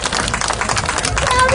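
Audience applauds a band at a live outdoor concert in Tor San Lorenzo, Ardea, a dense, loud wash of clapping from a crowd that holds steady throughout.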